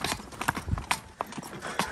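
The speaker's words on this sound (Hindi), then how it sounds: "चलो बेटा चलो वॉक वॉक घोड़ी वॉक। एक बार फिर से कंकरों का पैच आ गया जी।" A shod mare's hooves clip-clop at a walk over a gravel patch, a close, uneven series of crunchy knocks with scraping between steps.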